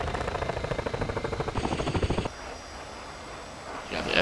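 Helicopter rotors and rapid machine-gun fire in the Digital Combat Simulator video game, with fast rhythmic chopping that breaks off into a steady engine drone, loud and dense.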